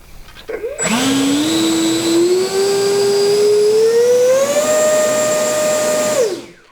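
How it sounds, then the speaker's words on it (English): A 70mm electric ducted fan in an E-flite Viper RC jet spools up for a thrust check into a loud, whining roar. The pitch climbs steadily, steps up near the end and cuts off sharply, close and continuous. "let's do a thrust check"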